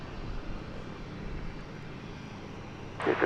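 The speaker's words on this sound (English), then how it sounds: "737-800, painted in Echo Alpha, short of 18 left." Boeing 737-800 in TWA livery on approach to runway 18 left, a steady broadband jet engine rumble held at one level, with a brighter surge of noise near the end.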